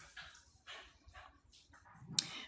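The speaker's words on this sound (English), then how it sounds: "I don't know why she's barking right now" A dog barks and whimpers indoors in a few short, faint bursts, low in the background.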